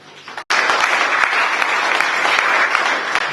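A ceremony audience gives sustained, dense applause for an assistant being introduced at a book launch honoring a professor, a sudden burst of many hands clapping steadily and close.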